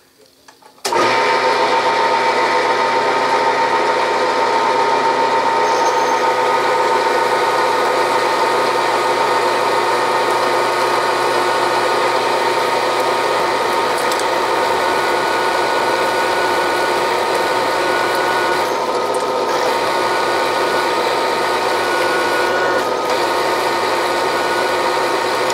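A Vevor magnetic drill with an annular cutter bores into metal at about 200 RPM, fed by hand; a loud, steady motor whine with a strong harmonic drone runs continuously from start to finish, with no talk.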